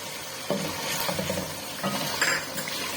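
Onion masala with ground coriander and roasted crushed cumin fries in a pot, a steady close sizzle broken by a couple of scraping stirs with a spoon.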